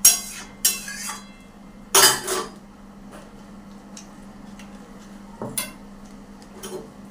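Spoon stirring a potato and pointed gourd kofta mixture in a pan, giving a few sharp clinks and scrapes against the metal, loudest near the start and around two seconds, with a faint steady hum underneath.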